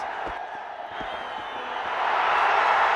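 Cricket crowd at a Nepal versus West Indies match chanting and cheering for Nepal, a dense roar of many voices that swells louder toward the end, with a few faint thumps underneath.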